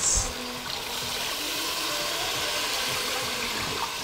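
Water pouring steadily into a cooking pot of yellow fava beans, a continuous hissing splash close by, with a brief clink at the start.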